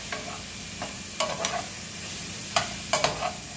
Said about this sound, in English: So you want to give this a stir.